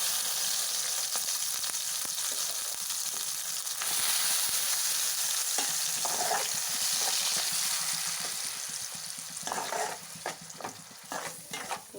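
Onion pieces hit hot oil in a pan for a tamarind fish curry and crackle in a steady sizzle, with stirring clatter and scraping growing more frequent toward the end. No voices.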